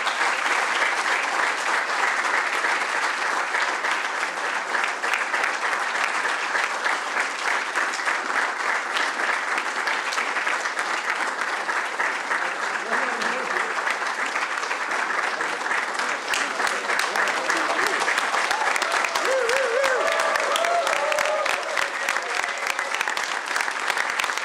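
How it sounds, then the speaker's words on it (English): Audience applause at an event's closing ceremony, sustained clapping from a sizeable crowd that continues steadily throughout, with brief voices faintly audible beneath it. "let's give them a big round of applause"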